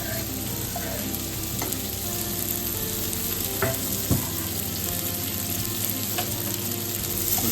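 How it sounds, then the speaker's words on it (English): Onions sizzle steadily in butter and oil in a hot pan, a constant crackling fry with a few faint clinks and stirs, no talking. "then I'm going to start frying the onions"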